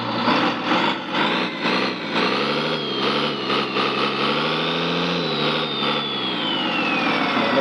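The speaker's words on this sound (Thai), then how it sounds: "เดี๋ยวสตาร์ทเครื่องก่อนเลยฟังเสียงเครื่องก่อนใช้ได้ไหม" A ten-wheeler truck engine, freshly repaired, runs loudly up close with a throbbing diesel rumble that surges and dips as the throttle is blipped, a faint rising whine appearing toward the end.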